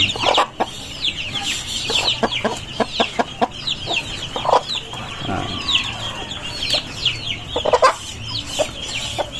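A hen clucks repeatedly up close in a farmyard, with sharp rhythmic clucks and squawks, while other chickens call faintly in the background.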